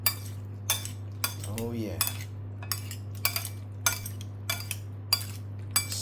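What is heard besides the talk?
mixing dabu dabu sauce with a utensil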